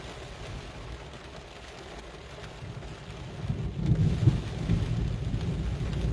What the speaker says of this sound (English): There's the lightning.